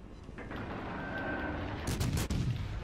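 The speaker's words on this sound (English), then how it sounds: "we could be very cheeky and actually open fire" Naval guns of the French destroyer Le Fantasque firing in World of Warships Legends, a few faint, distant booms rising out of low rumbling background noise.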